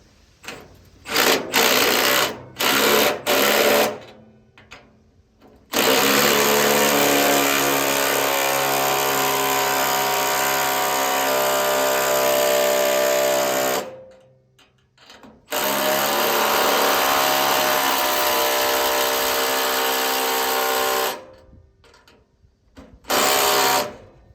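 A power tool tightens the bolt of an exhaust clamp on a truck flex-pipe, opening with short stuttering bursts, then a loud sustained whine that stops, resumes for several seconds, and ends in more brief bursts.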